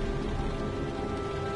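Steady rain falling in the video game Heavy Rain, a dense continuous patter on surfaces with a low hum underneath, loud and unbroken.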